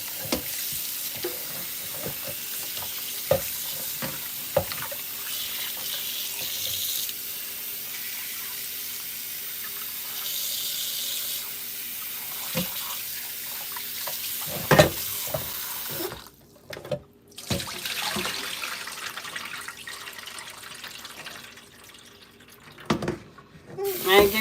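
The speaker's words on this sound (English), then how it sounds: "So I'm gonna rinse my turkey neck over here" Cold tap water runs steadily into a kitchen sink as a turkey neck is rinsed, a continuous splashing hiss broken by occasional clunks and handling knocks, with brief pauses in the flow.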